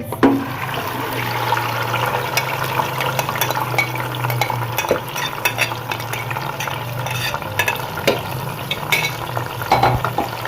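Ingredients tipped into hot oil in a pan for chicken malai handi, a loud, continuous close sizzle and bubbling with frequent clattering stirs and scrapes throughout, without speech.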